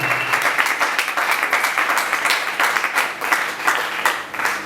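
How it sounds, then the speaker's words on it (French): A seminar congregation breaks into applause and acclamations of joy at a church gathering, dense steady clapping from many hands filling the room at close range. "Si il y a la joie d'écouter la parole, nous manifestons par les acclamations."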